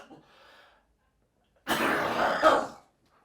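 One person coughs and clears their throat in a single harsh, close burst lasting about a second, after a faint breathy moment.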